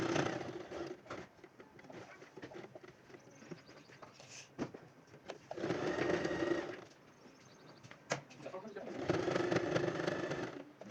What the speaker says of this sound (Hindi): तो इसी तरह से मैं ये सारी सिलाई जो है वो कंप्लीट कर लूँगी।